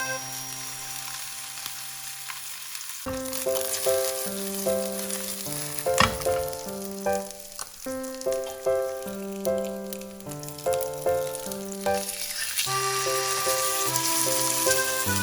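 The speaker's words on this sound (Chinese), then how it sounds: "炒出香味后，放入猪排，" Tomahawk pork chop frying in truffle olive oil with black pepper, sea salt flakes and smashed garlic over low heat, a steady broadband sizzle mostly masked by melodic background music playing throughout.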